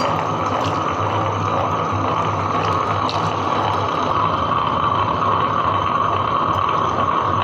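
A wet grinder churns urad dal and rice batter with a continuous, even whirring and sloshing hum, a steady close drone with faint clinks and no voices.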